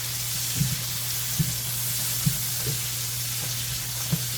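Beans being stirred in a hot frying pan, a steady sizzle broken by five soft scraping stirs spaced roughly a second apart, with a low steady hum beneath.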